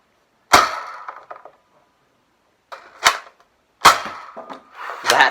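A 1995 Nerf crossbow blaster is fired several times nearby, each shot a sharp plastic snap and clatter followed by brief rattling handling noise, with quiet gaps between the bursts.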